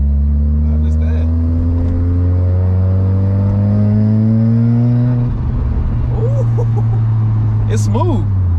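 A street-tuned Mazda RX-7 engine runs close by with a steady, smooth hum and a brief throttle blip partway through, while voices talk over it.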